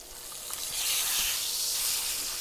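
A steak sizzles hard in a hot pan just after being flipped, a steady bright hiss that swells and holds, close and alone with no talking.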